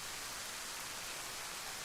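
Steady rainfall in the DayZ game world of Chernarus, a constant hissing downpour with no pauses, alone and without voices.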